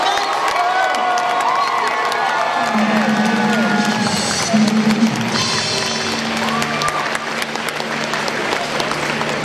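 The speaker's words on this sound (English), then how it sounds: "how about a huge round of applause for all 55 teams from the Mid-Atlantic" Robotics competition championship crowd in an arena breaks into loud, sustained applause with cheering and whoops, and a voice carries over the clapping.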